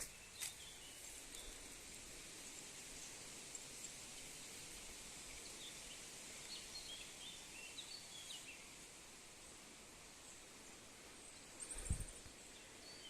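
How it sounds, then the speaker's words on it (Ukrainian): Birds sing faintly in a summer forest during a mushroom-picking walk, thin calls scattered over a soft steady hiss of leaves and insects, with one brief knock near the end and no talking. "Приймає, бо пташки співають."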